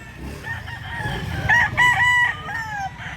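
Several chickens and roosters being sold for transport to Masbate, with roosters crowing in overlapping calls and hens clucking underneath, loud and close, continuous over a busy background.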